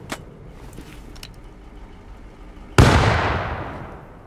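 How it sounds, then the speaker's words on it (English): A grenade in the video game Rust goes off with a single sudden loud blast that rumbles and fades over the next second and a half, after a few seconds of quiet background noise and faint clicks. "I'm about to throw a nade at him"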